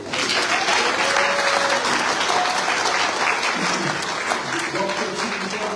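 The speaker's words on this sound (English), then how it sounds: "Give her another round of applause." An audience applauds at a university graduation recognition ceremony, with sustained, dense clapping from a large crowd that holds steady throughout and faint voices underneath.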